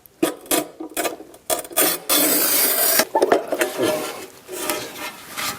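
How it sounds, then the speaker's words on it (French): A manual tile cutter scores a pool tile in short rasping strokes, with one longer continuous scrape in the middle, loud and close, and no talking. "je découpe le carreau avec une machine à découper qu'on appelle aussi souvent une carlette"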